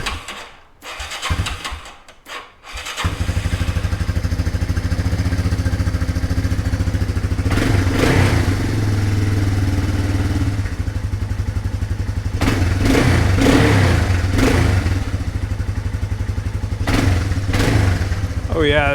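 A 1991 Yamaha Moto 4 250cc utility ATV with a freshly cleaned carburetor cranks for a few seconds, catches and settles into a loud, steady running note, revving up in short bursts several times.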